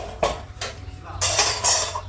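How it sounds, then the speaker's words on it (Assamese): Dishes, pots and pans being washed produce several close, short clattering knocks and scrapes of metal and crockery with splashy bursts in between, fairly quiet overall. "মই প্ৰথমতে বাচনখিনি ধুই আনো"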